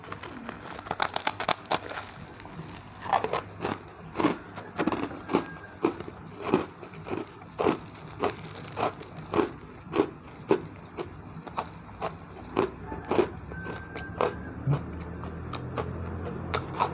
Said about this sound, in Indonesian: Kita gigit lagi.